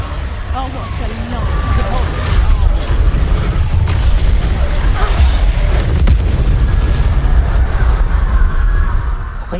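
A Confringo fire spell blasts in Hogwarts Legacy, a loud, booming explosion with a heavy low rumble that carries through the whole stretch, with broadband crackle and a voice speaking underneath.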